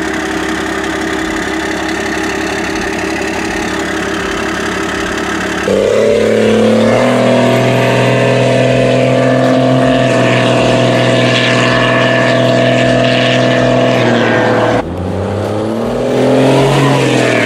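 A 1996 Dodge Cummins diesel with an axle-dump exhaust idles with a steady drone, then is revved into a loud, sustained roar, drops back briefly, and climbs again, heard up close with no talking.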